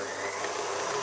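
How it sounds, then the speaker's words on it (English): A stand mixer runs at medium speed, beating vegan chocolate chip cookie dough made with a plant-based egg substitute, a faint steady mechanical whir with no talking. "So let's pop this back on our mixer here."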